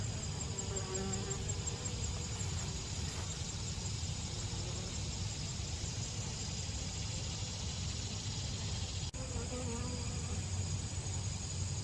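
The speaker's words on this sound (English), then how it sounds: "Honeybees and bumblebees." Honeybees and bumblebees buzz steadily around blooming sumac flowers in a park field on a summer morning, a continuous close insect drone with a faint engine hum far in the background.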